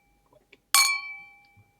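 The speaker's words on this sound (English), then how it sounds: "I'll add in a clink sound effect." A single bright glass clink for a toast, one sharp ringing strike that decays over about a second, clear and close in an otherwise quiet room.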